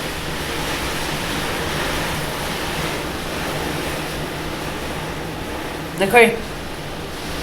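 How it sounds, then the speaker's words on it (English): Flood water rushes in a steady broadband wash that runs throughout. A person briefly speaks near the end. "Yeah, it's hella flooding, look"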